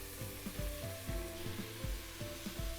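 A spoon stirs spinach, tomatoes and turmeric in a pressure cooker while they sizzle gently. Rhythmic scraping strokes about every half second sit over a soft frying hiss, close up, with no talking.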